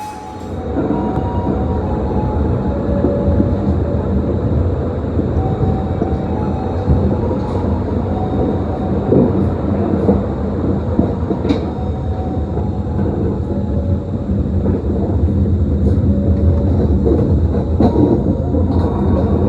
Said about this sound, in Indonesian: Ini dia keretanya.